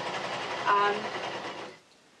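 An old serger hems a T-shirt hoodie, running in one steady rapid mechanical whir close by for under two seconds before stopping abruptly.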